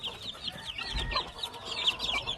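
Dome-blood gamefowl roosters clucking on a farm in Hawaii, a busy run of repeated calls with a soft background hum, no voices.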